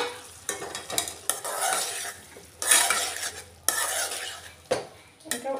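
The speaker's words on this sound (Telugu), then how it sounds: "ఇంకా కలుపుకున్న టమాటాలు వేసి కలుపుకొని" A spoon stirs chopped tomatoes into a simmering cauliflower curry in a pan. The scraping strokes come in uneven bursts with soft clinks against the metal over a steady sizzle, heard close up with no voices.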